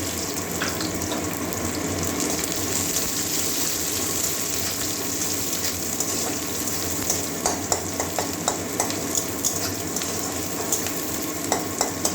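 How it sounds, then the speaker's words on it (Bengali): Chopped medium-sized onion fries in a pan with a loud, continuous sizzle, with regular scraping stir strokes growing more frequent toward the end. "আগে পেঁয়াজ দিয়ে দিচ্ছি একটা মিডিয়াম সাইজের পেঁয়াজ কুচি করে নিয়েছি"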